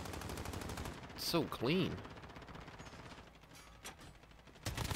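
Rapid automatic gunfire from Call of Duty Modern Warfare multiplayer on the small Shipment map, bursts rattling continuously under a person talking, with a louder flurry midway and another at the end.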